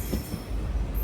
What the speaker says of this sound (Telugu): అటు సైడ్ ప్లాట్ఫామ్లో వెంకటాద్రి ఎక్స్ప్రెస్ ఉంటుంది